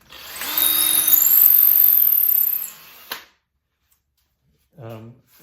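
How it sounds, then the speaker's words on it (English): A drill with a Forstner bit boring into wood from a utility pole, a close, loud whirring grind lasting about three seconds before it stops abruptly; a voice speaks briefly afterward. "set in that center part of the Forstner bit, and I'm just going to go through until I touch the side"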